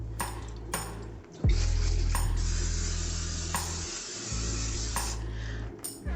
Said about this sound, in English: non-stick spray, any kind of non-stick spray you want